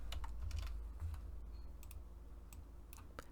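Quick bursts of keystrokes on a computer keyboard, soft and close, typed in short irregular clusters with brief pauses, against a low steady room hum.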